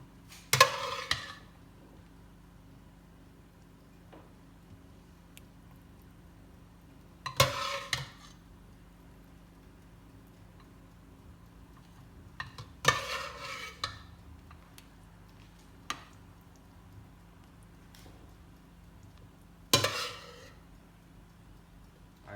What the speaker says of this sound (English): Now I'm topping it off with the sauce,